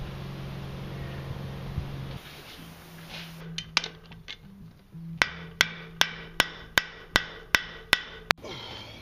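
Blacksmith's hammer striking a forged steel letter opener on an anvil: a run of sharp, ringing metallic blows, first scattered then a steady, evenly spaced series of about nine loud strikes over a low background hum.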